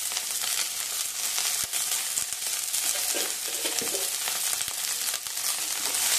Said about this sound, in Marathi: कांदाही छान असा सोनेरी रंगावरती आपल्याला परतवून घ्यायचा आहे।